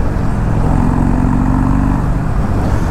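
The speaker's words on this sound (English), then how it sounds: "the Super Trap exhaust is very quiet, but it still produces a lovely tone" A 2022 Harley-Davidson Low Rider 103 engine hums steadily with a low, fairly quiet SuperTrapp aftermarket exhaust tone, a constant rumble while riding with some wind noise.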